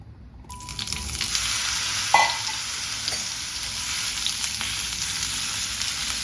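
Cauliflower pieces frying in hot sunflower oil for an aloo gobi dry curry, a loud close steady sizzle with a sharp clatter as something is dropped or stirred, no voices.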